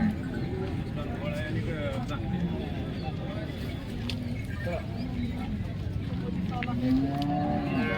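Cows moo in low drawn-out calls, including one near the end, while people talk over the background at a cattle market in Modnimb.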